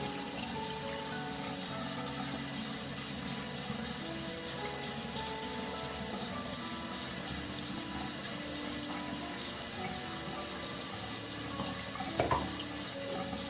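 Steady running water from a tap splashing into a sink, close and continuous, with a brief knock near the end and no talking.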